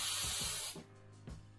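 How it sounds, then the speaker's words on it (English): A short burst of aerosol spray paint onto a glass bottle for a gold and black bottle craft, a loud close hiss lasting under a second that cuts off sharply, followed by quiet handling sounds. "and then you spray"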